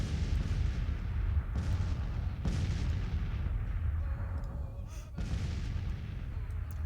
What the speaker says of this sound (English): Oh, we get a little bit of firing